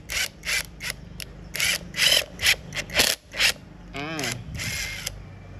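Power drill driving a screw into a wall without a wall anchor, a series of short whirring bursts with pauses, close and fairly loud, with a voice talking between bursts.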